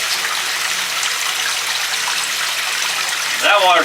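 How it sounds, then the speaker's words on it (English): Water rushes steadily out of a cement ring water tank, a loud, continuous hiss of splashing flow, with a voice briefly breaking in near the end. "All the water's already leaking out of here"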